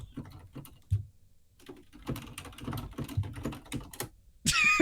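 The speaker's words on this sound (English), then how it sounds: "I can hear you typing." Keys on a computer keyboard clatter in irregular bursts of fast typing, fairly close and moderately loud, ending with a brief louder burst of noise at the end.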